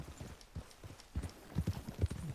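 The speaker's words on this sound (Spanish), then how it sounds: "Si llevo un caballo que no es que corra mucho." A slow horse's hooves clip-clop steadily while it is ridden in Red Dead Redemption 2, with a soft, even rhythm of thuds that grows a little louder toward the end.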